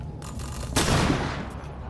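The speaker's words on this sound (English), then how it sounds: "Throwing stun grenade." A stun grenade goes off in the Rainbow Six Extraction video game, one sharp loud burst with a brief ringing tail over steady game noise.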